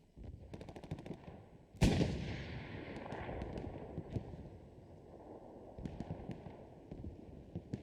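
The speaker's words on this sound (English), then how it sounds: "Goss sends a rocket and gets 3 kills" Rocket fire and explosions in the World War II shooter Hell Let Loose: a sharp, heavy blast hits early and rumbles off, surrounded by scattered rattling gunfire bursts and more distant shots.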